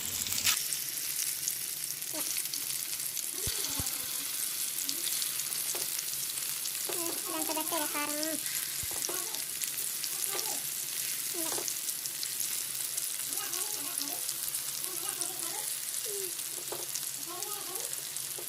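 Chopped onions sizzle steadily in hot oil in a pan, a continuous bright frying hiss throughout with occasional soft clinks and scrapes of a spoon stirring.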